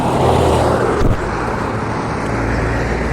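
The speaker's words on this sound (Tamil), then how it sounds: "எல்லாருமே கார் பைக்கும் போய்கிட்டு இருக்காங்க" Steady road traffic of cars and motorbikes moving along a busy Chennai street, a continuous close rumble and hiss of engines and tyres with a low drone underneath, with no distinct single pass standing out.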